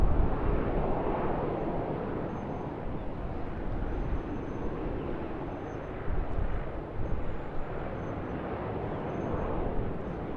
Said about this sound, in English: China Eastern Airbus